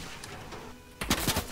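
Gunfire aimed at the player in an online build-battle match, a short burst of several loud, sharp shots rising abruptly out of a quiet, hissy background.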